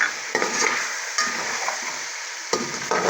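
Korma masala being stir-roasted in a pot, a loud sizzling scrape with sharp spoon knocks against the metal at irregular intervals, no talk.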